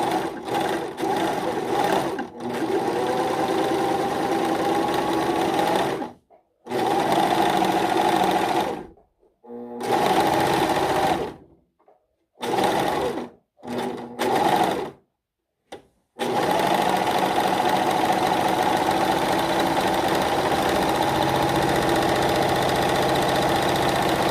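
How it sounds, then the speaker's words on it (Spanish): Singer S0235 sewing machine stitching a festoon stitch, its motor whirring in long steady runs broken by several short pauses and restarts, close up with no talk. "estamos listos para volver a probar la máquina. Vamos a repetir la costura ahora en este tipo de hilos y combinación"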